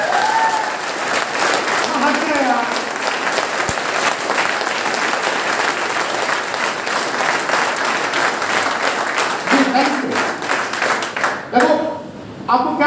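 Seminar audience in Sikar clapping steadily throughout, a dense sustained applause that swells near the end, with a voice talking over it at times.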